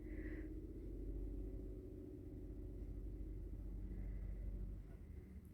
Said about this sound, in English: I can hear the trucks on the highway up the street.